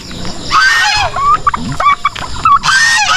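Geese on a farm give loud, repeated honking calls in several bursts, close by, with rustling and pecking movement between calls and no talk.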